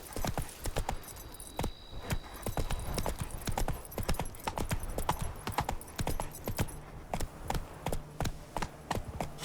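Roach the horse gallops in The Witcher 3 video game, a steady run of sharp, close hoof clops throughout with a brief whinny-like tone near the start, no talking.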